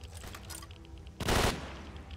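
In the game Stalker Sigerous Mod, an ordinary machine gun fires one short, loud burst that follows a few fainter scattered shots, heard within a quiet in-game setting.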